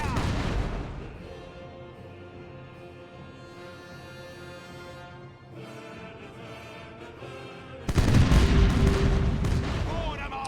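Ship cannons fire a broadside in the pirate game Caribbean Legend: Age of Pirates, a dense sustained volley of booms and gunfire that swells loudly near the end, with music and a voice underneath.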